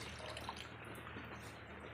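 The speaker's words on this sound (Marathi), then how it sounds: "आता आपण पुन्हा 1 जग पाणी टाकतोय" Water from a jug pours steadily into a cooking pot for a large batch of khichdi, a continuous soft splashing that stays even for about two seconds with no talk.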